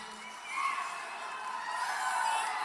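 A big political rally crowd in St. Augustine, Florida cheers and shouts in a continuous, fairly distant roar that swells slightly and holds throughout.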